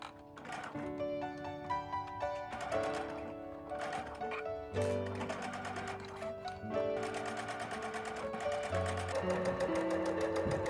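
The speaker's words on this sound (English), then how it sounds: "When sewing the curved corners, go slowly to ensure an even seam allowance." A sewing machine stitches the curved corners of a ruffled tablecloth, a steady close mechanical whir running throughout under a layer of music with no voice.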